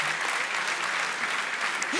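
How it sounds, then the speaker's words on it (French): An audience applauds steadily and warmly for a young woman at a book event, a dense even wash of clapping sustained throughout, moderately loud with faint voices mixed in. "est-ce qu'on peut l'applaudir, une jeune femme qui aime le plus beau livre?"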